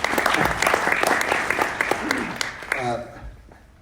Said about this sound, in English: let's give Wesley a clap